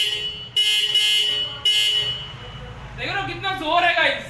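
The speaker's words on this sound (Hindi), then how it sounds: "अभी चाबी ऑन करके दिखा देता हूँ हॉर्न का आवाज़" A Kinetic Honda DX horn fitted to a Honda Activa 6G scooter sounds two loud, bright blasts, then a warbling, rising tone near the end, with someone talking around it.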